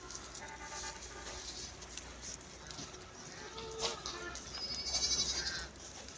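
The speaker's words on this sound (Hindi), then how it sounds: "बकरियों को फ़िलहाल हम कमरे में बंद करना भी शुरू कर देंगे।" Goats bleat on a farm in winter, with several calls of varying loudness, some nearer and some farther off, over a faint background hum and occasional higher calls.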